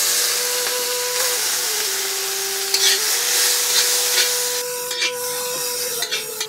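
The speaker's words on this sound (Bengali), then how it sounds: "দিয়ে দেবো গ্রেট করা পেঁয়াজ" Grated onion frying in oil gives a steady, close, continuous hiss of sizzling, with a sustained musical tone running underneath throughout.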